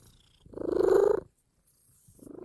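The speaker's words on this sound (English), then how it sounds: "she purrs extremely loud" A cat purrs loudly and close up, a steady rumbling pulse that swells for about a second, stops, then starts again.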